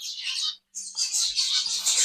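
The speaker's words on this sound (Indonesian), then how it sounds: "Burung zebrafin yang mungil ini di depan kita, burung yang berasal dari endemik Australia ini" Small zebra finches from Australia chirp in high, bright bursts, a short call, a brief gap, then a longer stretch of busy twittering, close and clear.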